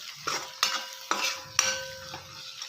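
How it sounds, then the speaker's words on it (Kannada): A spoon stirring potato and pea curry in a hot oily pan: four sharp metallic scrapes and clinks at roughly half-second intervals over a soft sizzle, close and clear with no talking. "ಇವಾಗ ಚೆನ್ನಾಗಿ ಮಿಕ್ಸ್ ಮಾಡ್ಕೊಳ್ಳೋಣ."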